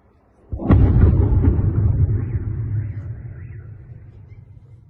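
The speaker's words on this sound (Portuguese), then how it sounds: "Aqui uma das explosões que aconteceu ali na base de Tver." Explosion at the Tver military air base in Russia: a single sharp blast followed by a heavy, low rumble that slowly fades over several seconds, heard from a distance with no voices.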